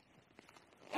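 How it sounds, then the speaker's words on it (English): A zip slides open along the lid of a Lowe Alpine AirZone Pro rucksack, a short close rasp that ends in a louder pull. "This zips open, obviously"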